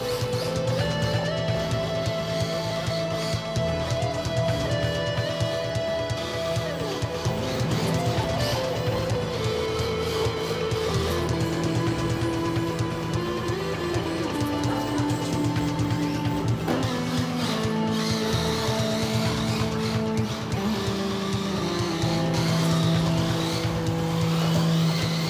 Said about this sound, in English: let's do some tandem drifting